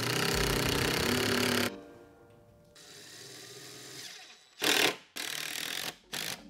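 Power drill driving 2.5-inch deck screws into a wooden DIY weight bench: a long loud whirring burst, a quieter stretch, then several short sharp bursts close by.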